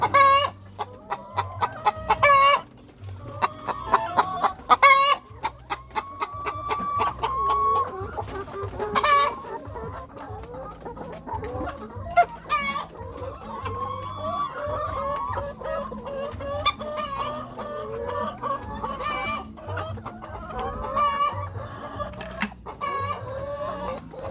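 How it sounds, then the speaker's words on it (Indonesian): A flock of laying hens clucks and chatters continuously at close range in a coop during hot weather, with sharp squawks and occasional cackles rising over the busy murmur. "Nah, ini ayamnya bertelur seperti ayam kampung ya."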